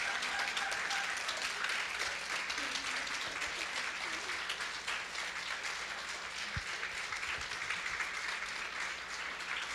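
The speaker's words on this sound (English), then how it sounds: "can we just give these four young women a round of applause" An audience at a youth engagement event on the democratic process claps for four young women. The applause is steady and dense, holds for about ten seconds at moderate distance and fills the room evenly.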